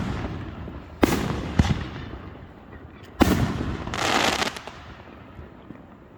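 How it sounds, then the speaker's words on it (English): Cheap backyard fireworks set off, several sharp bangs and crackling bursts around the middle, one longer crackle afterward, heard close and loud with no talk. "that was them setting off their shitty fireworks"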